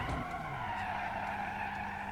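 A race car skids through a driving video game, its tire squeal sustained and steady for about two seconds over a constant engine drone, loud and close with no one talking.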